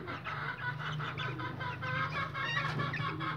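Chicks cheep continuously while they are weighed, a busy chorus of thin, high peeps at close to moderate range with no talking.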